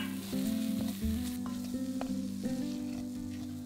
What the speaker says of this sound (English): Stir it together and fry for another minute.